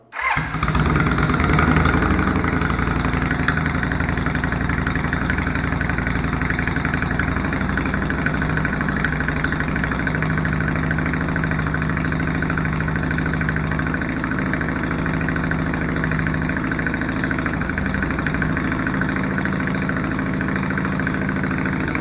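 Yamaha XV 535 Virago motorcycle engine starting and then idling steadily, a loud, close, continuous throbbing rumble that holds for about twenty seconds with no talk over it.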